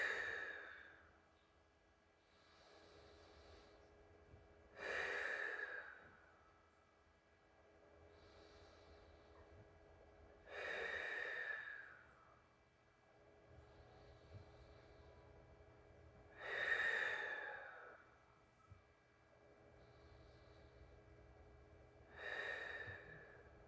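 A person does slow, deep breathing while lying on a Rollga foam roller during a stretching routine for sciatica and low back pain, with five loud, drawn-out sighing exhales spaced about six seconds apart over a quiet background.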